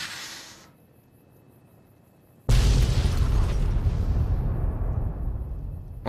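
Explosion in the Fallout: New Vegas video game: after a quiet stretch a sudden loud boom hits and rolls into a long, heavy rumble that slowly fades while staying dense and low.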